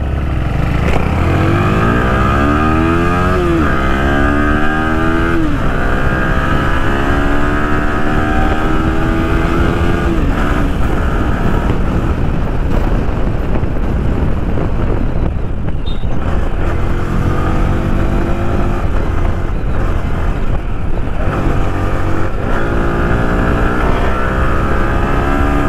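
A KTM Duke 390 and a Yamaha R15 V3 motorcycle race on a street, engines loud and close, revving hard with rising and falling pitch sweeps through repeated gear changes, steady engine roar throughout.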